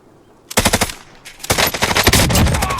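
Gunfire from a sniper in a solo video game match comes as two loud, close volleys of rapid sharp shots. The second burst is longer and denser, with no speech.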